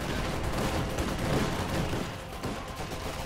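Heavy, continuous gunfire fills a World War II video game battle, a dense wash of overlapping shots and distant booms that holds steady and loud throughout, with no talk over it.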